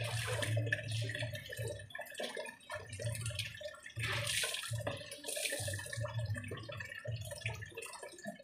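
Raw food, including fish, being washed quickly under running water at an outdoor tap, with steady splashing and dripping that comes in short bursts and pauses, fairly close.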